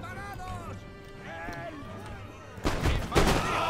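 Musket volleys from fusiliers in the battle game Empire Total War crack out near the end as two loud, broad bursts, following a stretch of quieter battlefield ambience with a voice talking over it.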